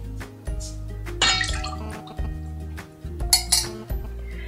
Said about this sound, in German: Wir vermischen jetzt die restliche Sahne mit der Buttermilch.